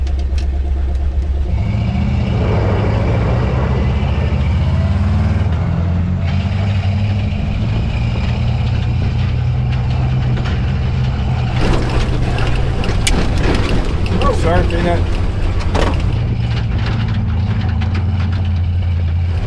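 A 6x6 spud truck rumbles off road, its heavy engine droning loud and steady, with rattling and clattering picking up partway through.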